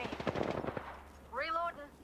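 Rapid automatic gunfire from Apex Legends rattles in a dense burst, followed by a short tonal game effect; a voice talks faintly over the shooting.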